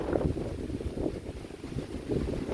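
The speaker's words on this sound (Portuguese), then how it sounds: "Olha essa ventania que tá." Strong outdoor wind gusting steadily, with broad rushing noise and blustery surges pressing against the microphone and no talking over it.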